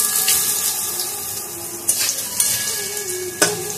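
Lentil fritters sizzle in hot oil in a pan as a steady frying hiss, with a few sharper pops and clatters from the fritters being turned.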